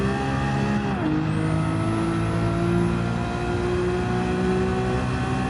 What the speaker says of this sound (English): we're also listening to our tires and car